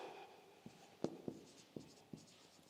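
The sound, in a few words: writing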